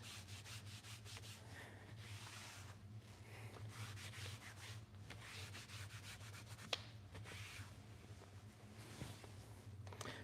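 The edge of a leather belt is buffed by hand, a soft steady rubbing that continues quietly and evenly throughout with no talking.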